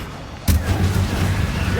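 Incendio fire spell cast in the Hogwarts Legacy video game, a sudden loud burst followed by a sustained roaring, rumbling whoosh of flame that lingers for over a second.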